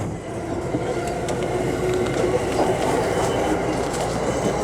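Steady rumble of an electric commuter train from inside a carriage, with rhythmic clacking of wheels over the rails and a faint metallic whine.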